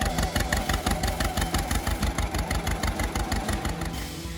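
A Model B tractor's inline two-cylinder engine, 149 to 190 cubic inches, runs with a loud, steady, rhythmic popping beat close by, then fades slightly at the end.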